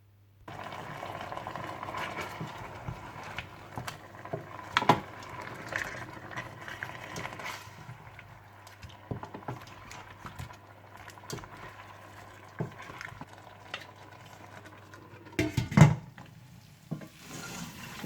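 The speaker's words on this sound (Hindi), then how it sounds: "और अब आपने इसे उस वक्त तक पकाना है जब तक चाप्स गल जाएं और इसका अपना पानी खुश्क हो जाए" Chops simmer in a little water in a karahi, a soft, steady bubbling and light sizzling that stays fairly quiet, with occasional stirring clinks and one louder knock near the end.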